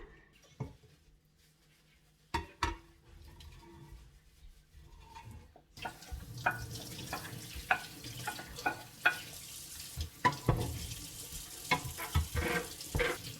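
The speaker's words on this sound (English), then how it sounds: "I'm now gonna put it back into the pan" Shredded beef for ropa vieja dropped back into a pan, quiet clinks at first, then a sudden rise into a steady close sizzle with repeated sharp scraping and stirring clacks.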